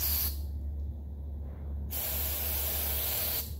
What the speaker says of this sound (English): So I've just got a regular spray bomb brake clean here.